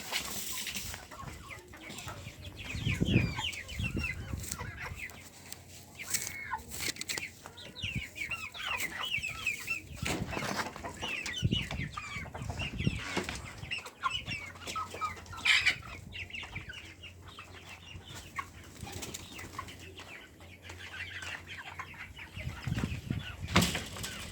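Chickens cluck and squawk on and off around a farmyard, with occasional wing flaps and soft rustling, fairly close and moderately quiet.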